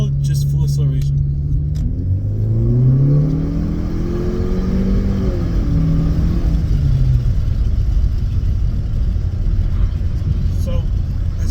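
A Honda Civic FK7 with a CVT and a Mishimoto cold air intake accelerates at full throttle in sport mode, a smooth rising engine drone heard from inside the cabin that fades into a steady road rumble.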